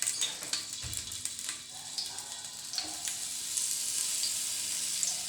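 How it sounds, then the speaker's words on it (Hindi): Bone-in chicken pieces frying in a little ghee, a continuous bright sizzle with occasional clatter and shifting as pieces are placed, close and moderately loud, no talking. "थोड़ा सा घी डालेंगे। चिकन का जो हड्डी वाला हिस्सा है ना, वो इस तरीके का रखेंगे।"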